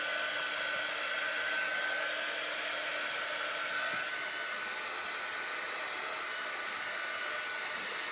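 Hair dryer blowing steadily and loudly, drying a cactus craft project up close; an even, unbroken whir with no talk.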